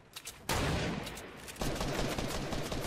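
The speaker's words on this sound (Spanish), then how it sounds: "dispara desde la casa del centro" Quiet, distant gunfire in the video game Fortnite, coming from a house at the center of the map, heard as a sudden burst followed by continuous rattling shots with a second surge partway through.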